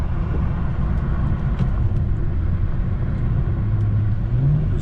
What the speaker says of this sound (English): let's see some turbo noises